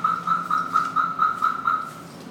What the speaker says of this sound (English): And you can see my alarm will go off.